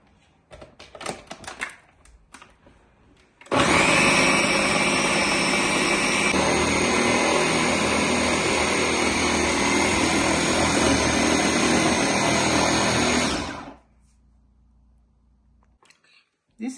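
A kitchen blender grinds plantain, onions, pepper, crayfish and seasoning together with a loud, steady motor whine and churning that lasts about ten seconds and then cuts off. Faint handling sounds come just before and after.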